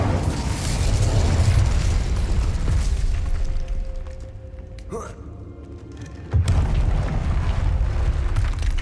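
Incendio fire spell cast in Hogwarts Legacy, a loud whooshing fiery burst with a sharp pop around the middle, set in continuous game ambience, with a voice calling out the spell.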